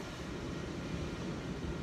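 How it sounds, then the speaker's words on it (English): A train rumbles past nearby as a steady, loud, continuous low roar with no talking over it. "The train's coming by"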